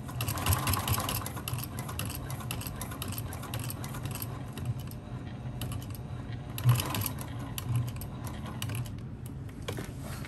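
A sewing machine stitches steadily over thick, bulky vinyl seams while making a bag, a continuous mechanical whir with a brief louder thump partway through and no talk.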